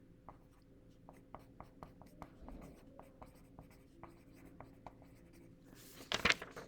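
Pencil writing on paper for tutorial notes, heard close as a series of short, regular scratchy strokes with brief pauses between them, ending in a louder rustle.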